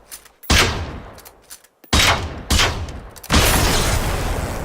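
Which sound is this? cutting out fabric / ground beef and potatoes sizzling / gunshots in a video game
gunshots in a video game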